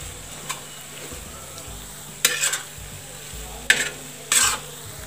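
Pav bhaji vegetables with tomatoes and spices are stirred in a kadhai: soft background sizzle with three distinct scraping strokes of a spoon against the pan, no talk.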